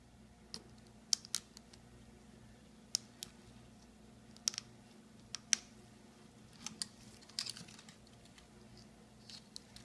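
Dissecting scissors snip around a green crab's carapace, giving faint, sparse clicks and crisp snips spaced irregularly over a quiet background.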